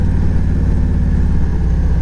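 A motorcycle engine runs during a ride past Confederate Cavalry Avenue, a low, steady throb with even pulsing that stays loud and close for the whole stretch.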